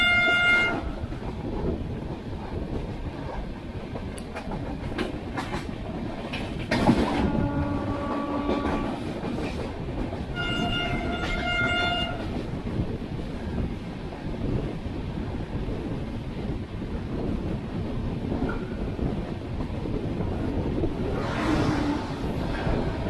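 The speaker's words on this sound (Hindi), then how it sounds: "अब हमारी ट्रेन का नॉन स्टॉप रन स्टार्ट होगा from Bhusawal to Bhopal junction." The 12107 Mumbai–Sitapur superfast express on a long non-stop run, heard from aboard: a constant rumbling roar of wheels on track with rhythmic clatter, wind buffeting, and a couple of distant horn blasts early on.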